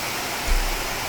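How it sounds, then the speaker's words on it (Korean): Waterfalls tumble through a mountain valley at Heullimgol on Seoraksan, giving a steady, broadband rush of falling water that runs the whole time with a slight swell partway through, with no voices. "계곡은 곳곳에서 다양한 모습으로 예쁜 폭포를 만들어 놓았습니다"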